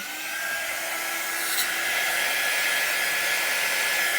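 A hair dryer runs close and steady, blowing hot air to dry chalk paste on wood, with a constant loud whooshing hum that barely changes through the whole stretch.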